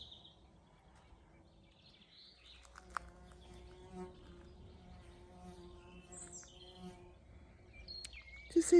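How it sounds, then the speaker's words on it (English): A bee circles close to the camera in a quiet woodland garden, its soft buzz rising and fading in loudness, with faint bird chirps in the background. "Do you see that beautiful bee?"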